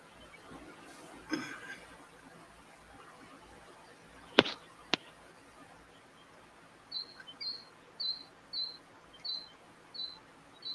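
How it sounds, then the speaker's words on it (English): Birds call outdoors, including a killdeer, with a series of short, evenly spaced high chirps toward the end, a few sharp clicks before them, and soft background noise throughout. "You can hear the birds in the background."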